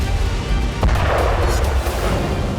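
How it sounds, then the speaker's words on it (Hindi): Israeli bombardment in Gaza, a dense, rumbling barrage of explosions with a sharper blast near the start, loud and continuous throughout. "इजरायल ने गाजा में बमबारी तेज कर दी है।"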